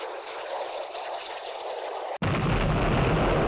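A sudden deep boom erupts partway through a submarine combat game, cutting off steady high hiss and leaving loud low rumble that carries on to the end.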